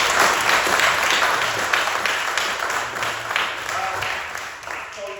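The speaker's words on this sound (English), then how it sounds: "Can we give Tom another round of applause?" Applause from an audience at a performance workshop, a burst of clapping that is loud at first and gradually thins and fades over several seconds.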